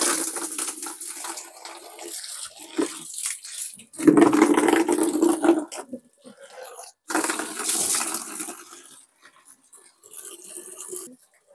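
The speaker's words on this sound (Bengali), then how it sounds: "হ্যাঁ দর্শক দেখেন পানি দিচ্ছি।" Water is poured into cattle feed to mix it for fattening calves, heard as splashing, gushing bursts that start and stop over several seconds, loudest near the middle, with pauses of near-silence between.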